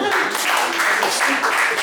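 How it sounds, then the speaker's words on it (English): A meeting audience claps for a speaker, a brief, close burst of many hands clapping with a rough, continuous texture. "we'll clap for Bob"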